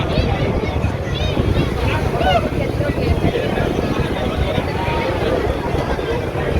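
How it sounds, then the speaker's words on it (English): Continuous low rumbling engine drone with wind buffeting the microphone as a boat crosses the sea to a rock island at Kanyakumari; faint voices blend into the steady noise. "So now the boat is moving towards the"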